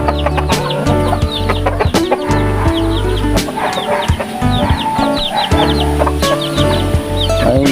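Chickens cluck steadily at close range in a backyard poultry setting, with overlapping calls and a few sharper squawks over a constant low hum.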